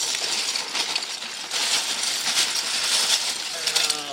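Plastic brick kit pieces pour out of a bag onto a surface in a near, continuous rattling clatter of small hard parts, with bursts of clinking spread across the few seconds.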